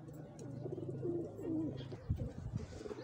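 Two stray pigeons, one a Sialkoti and Golden cross, coo softly after being caught. Low rolling coos repeat over a muffled background.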